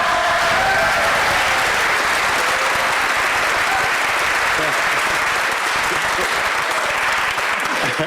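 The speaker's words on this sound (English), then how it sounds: "there will be an absolutely thunderous applause break from everyone in the room" Loud, sustained applause from a full room of people during a radio broadcast, a dense wash of clapping that holds steady throughout with faint voices mixed in.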